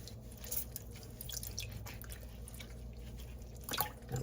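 Cleaned catfish are rinsed under running water, giving soft close splashes and drips over a low background hum, with a slightly louder splash near the end.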